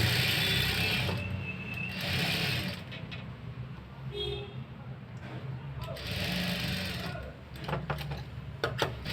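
Sewing machine stitching along a folded half-inch blouse hem, running in short whirring bursts with pauses between them, close and moderately loud, with a voice speaking in between.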